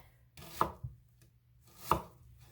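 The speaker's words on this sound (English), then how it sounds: "bring it in, cut it down the center, flip it back over, and rock the boat." A knife roughly chops a potato for potato salad on a cutting board, giving two distinct close thuds about a second apart, with no talk.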